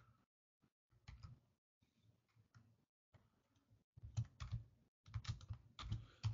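Close, crisp keystrokes on a computer keyboard while entering commands at a Linux prompt, starting as sparse single taps and building into quicker clustered bursts of typing, with no talking.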